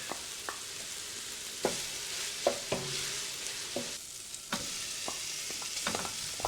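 Garlic sizzles in a frying pan with sweating vegetables for a cioppino, a soft steady hiss broken by scattered clicks and taps of a utensil against the pan, faint and close with no voices.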